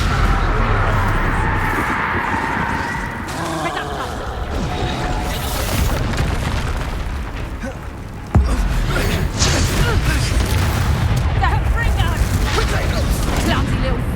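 Confringo spell blasts in combat in Hogwarts Legacy, a series of booming explosions and crashing impacts over a dense, continuous battle din, with a sharp jolt near the middle, while characters shout over the fighting.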